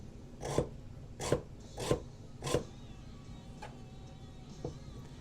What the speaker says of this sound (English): we'll also go in with the scribe and give it some really good surface adhesion